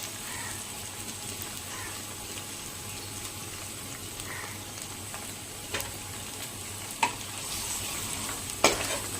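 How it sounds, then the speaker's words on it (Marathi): Spices frying and sizzling in hot oil for a kadhi tempering as asafoetida goes in, a steady close hiss with a few sharp pops and spatters near the end. "फोडणी छान झाली आहे, शिजली. आता त्यात आपण हिंग टाकूया."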